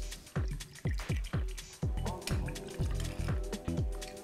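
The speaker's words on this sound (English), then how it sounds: "Pour 80 ml of vibrant notes." Non-alcoholic aperitif poured into a glass over ice, a close liquid splash and glug running several seconds with small repeated clinks of ice shifting in the glass, no voices.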